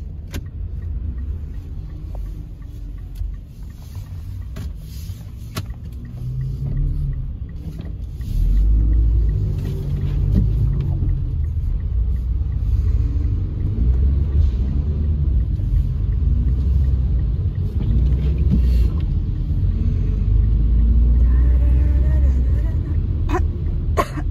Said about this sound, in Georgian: საცობები გიყვარეს ამ წვიმიან დღეებში უფრო დიდი საცობებია ხოლმე ყოველთვის